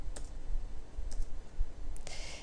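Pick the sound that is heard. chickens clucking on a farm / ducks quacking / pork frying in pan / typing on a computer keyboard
typing on a computer keyboard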